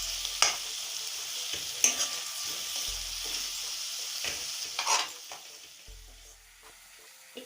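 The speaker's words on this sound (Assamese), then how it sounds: "ভালকৈ মিহলাই ল'ম।" Sidol chutney, an Assamese fermented-fish dish, stirred and mixed in a pan, with a soft sizzle and several sharp scraping strokes of a spatula at irregular intervals, close and fairly loud, settling quieter toward the end.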